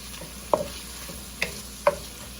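Browned meat cooking in a pan, heard as a few short clinks and scrapes of stirring spaced apart over a quiet, faint background sizzle, with no talking.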